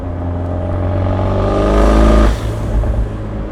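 Abarth 124 Spider exhaust with its valves open, a loud, deep engine drone that swells as it revs and peaks near the middle before easing back to a steady rumble.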